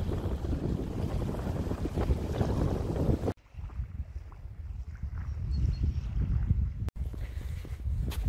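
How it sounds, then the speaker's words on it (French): Wind buffets the microphone in a steady low roar on a coastal walk around Île d'Arz in the Gulf of Morbihan, cutting out briefly a couple of times, with no voices. "Il y a un peu de vent, il fait frais"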